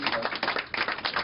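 Audience applause breaks out at a live afternoon event as two guests are introduced, a dense wash of clapping hands with a voice speaking over it near the start.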